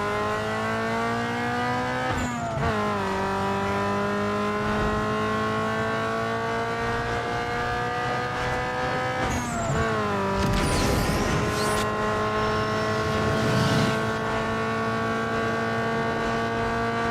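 A Toyota Corolla races in the video game Need For Speed Underground 2, its engine droning steadily and rising in pitch through several gear shifts, with brief tire squeals and whooshes over a constant background hum.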